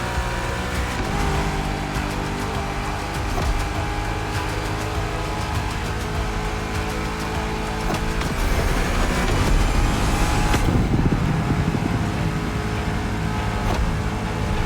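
Supercharged V8 of a Shelby GT500 Mustang in The Crew Motorfest roars loudly and steadily, swelling into a heavier revving surge partway through, with no talking.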